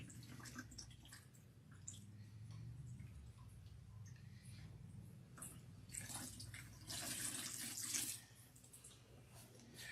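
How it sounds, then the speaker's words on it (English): Water runs from a tap while shampooed hair is rinsed, a soft steady splashing that swells louder near the end, close by and quiet, with no talk. "When I'm rinsing, the water is now, coming out clean."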